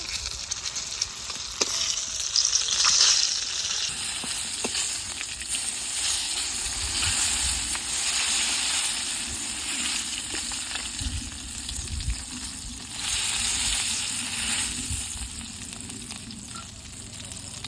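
Koi fish sizzling in hot oil, a steady bright frying crackle that runs the whole time, with a few spatters and stirring clinks close by and no talking.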